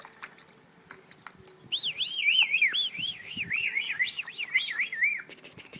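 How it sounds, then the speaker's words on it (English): A pet bird splashing in its bath gives repeated wavering whistled chirps, close and fairly loud, over a low rustling background, with no talk. "Look at that. He's a good bird."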